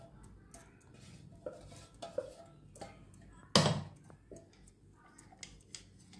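A spoon stirs green curry leaf chutney in a pan after a little oil is added, making soft scrapes and taps with one loud metallic clank in the middle.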